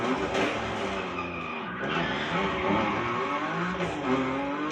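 A car drifting in The Crew Motorfest, with sustained tire squeal over a steady engine drone, continuous and fairly close with no talk.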